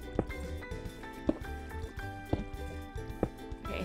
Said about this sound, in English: Okay, I hear both lava and water.